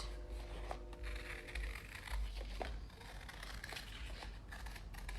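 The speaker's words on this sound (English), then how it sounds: "I'm using thinner cardboard because it's gonna be easier to cut" Scissors cut thin chipboard cardboard for pom pom making, giving faint close snips and crinkling paper rustle over a low background hum, with no speech.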